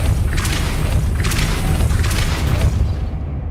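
Depulso spell blasting and breaking an object in Hogwarts Legacy, heard as three heavy booming bursts about a second apart over a continuous low rumble, close and loud.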